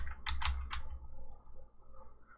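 A short burst of typing on a computer keyboard: a few quick, quiet clicks close together, then near silence.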